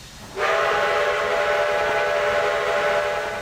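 A steam locomotive whistle on a Canadian 2-8-2 in the Trainz railway game starts abruptly and holds a loud, steady, breathy tone for about three seconds.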